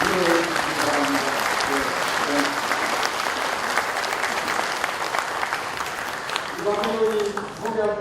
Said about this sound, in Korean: 여러분 큰 노고의 박수로 부르시기 바랍니다